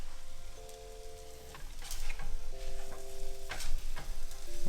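A plant-based taco filling sizzling as it fries in a pan, with steady crackling and occasional scraping strokes of stirring, close and moderately loud, alongside faint tonal beeps.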